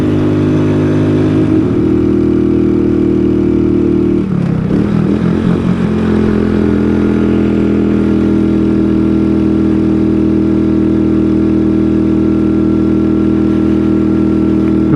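A 125cc scooter engine drones steadily under load climbing a steep hill in hot weather, a constant mid-pitched hum with a brief rough patch partway through, loud and close.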